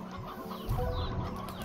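Chickens cluck in a farming video game, a few soft clucks and murmurs close by over a steady background hum, with no talking.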